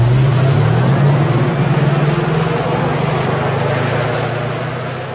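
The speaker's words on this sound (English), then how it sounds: "we will delight you with the very emotional G-Class specific driving sound" The all-electric 2025 Mercedes G-Class plays its synthesized driving sound, a loud, steady low engine-like drone with a rapid pulsing texture that slowly fades over several seconds, with no voices.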